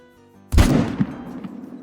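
A single loud hunting-rifle shot in a hunting video game cracks out after a quiet musical intro, followed by a lingering rumbling echo that slowly fades.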